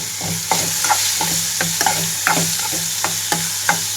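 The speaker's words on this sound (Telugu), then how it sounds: "ఇప్పుడు ఇందులోనే కట్ చేసి పెట్టుకున్న దోసకాయ ముక్కలు వేస్తున్నాను" Cut cucumber pieces with the seeds removed sizzle loudly in a hot pan. A utensil stirs them in a steady rhythm of close scraping strokes, about two or three per second, over continuous frying hiss.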